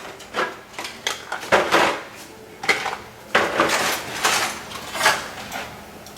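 Shrimp tossed into a cooking pot for a seafood boil in a home kitchen, producing a series of loud, irregular clattering and rattling knocks against the metal, with no talking.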